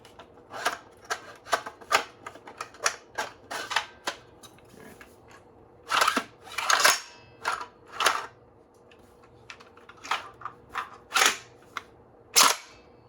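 A prototype Nerf tube-magazine breacher shotgun is pumped and cycled fast, making a rapid run of sharp plastic clacks and snaps, close up, then bursts of louder ratcheting strokes with short pauses between them.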